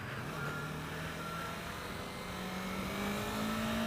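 A 2015 Yamaha R3 motorcycle engine climbs steadily in pitch as it winds through the gears, a continuous mid-range drone recorded up close while riding, with wind noise underneath.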